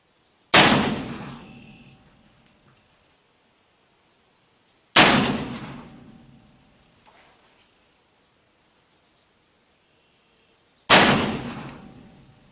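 An 1860 Pietta black powder revolver loaded with lubricated felt wads fires three loud, sharp shots spaced several seconds apart, each blast trailing off into a long echo over near silence.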